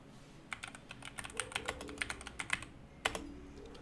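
Close, crisp keystrokes on a computer keyboard while entering a search in the Windows search bar, tapped in quick uneven bursts with brief pauses and no talk.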